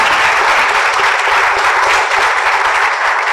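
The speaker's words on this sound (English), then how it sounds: "Can we take a clap for him, please?" A conference audience claps for Paul Russo, Group CEO of KCB, a loud, even, continuous burst of many hands close to the mic with no talk over it.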